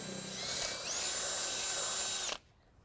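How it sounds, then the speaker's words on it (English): A power drill bores a pilot hole into the frame of a 2012 Ford Focus for a trailer hitch, a loud, close, high whine that rises slightly in pitch, then stops abruptly near the end. "We're going to start out by drilling our pilot hole."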